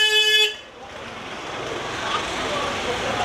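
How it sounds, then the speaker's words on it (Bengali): On a busy street, a loud vehicle horn blows once for about half a second. Steady traffic noise and the rumble of passing cars follow. "কেন ভাই হর্ন মারে?"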